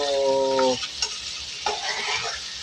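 Chicken pieces and garlic for tinola sizzling in a pan with scraping stirs; a tonal hum opens before fading into crackling fry and a few utensil knocks.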